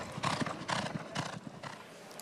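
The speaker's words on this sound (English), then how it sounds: "I just love being with the horses" Horses at the Saratoga racetrack on Travers Day, with hooves clopping in a steady rhythm of bursts and a whinny, moderately close against a busy outdoor background.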